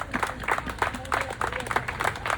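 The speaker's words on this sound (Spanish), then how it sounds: "un aplauso enorme, enorme" Audience applause at a memorial tribute gathering, a brief burst of rhythmic clapping from a small crowd, fairly close and loud, with faint voices underneath.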